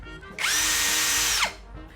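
An Osuka OCD 701 cordless drill runs at high speed in one steady whine, starting abruptly and winding down after about a second, loud and close with no talk.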